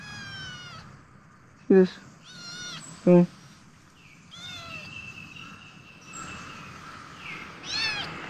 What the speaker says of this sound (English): Okay, I got a kitten.